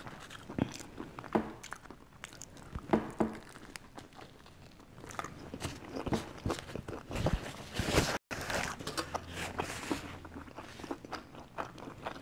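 Someone eats pizza with a crunchy crust, giving close, repeated bites and crunches followed by soft chewing, with brief pauses between mouthfuls and no talking.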